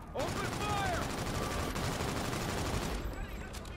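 Dense automatic gunfire rattles continuously in a Call of Duty Infinite Warfare street firefight, loud and close, with faint voices mixed into the chaotic bursts.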